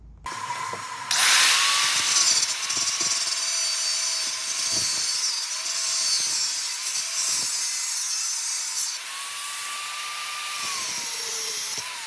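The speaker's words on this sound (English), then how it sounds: "we're going to cut this with an angle grinder" An angle grinder spins up and cuts through metal for a rocket stove build, a loud, sustained high-pitched whine that runs nearly continuously, dipping briefly near the end before picking up again.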